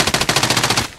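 A rapid burst of automatic gunfire in a video game, about a dozen sharp shots in quick even succession over one second, loud and close, then stopping abruptly.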